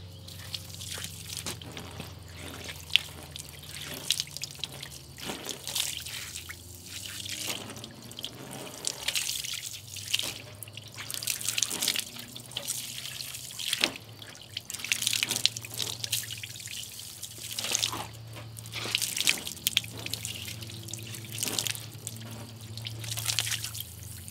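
Water drips and trickles steadily off a ceramic-coated car panel, with irregular close drops and splashes over a low hum and no talking.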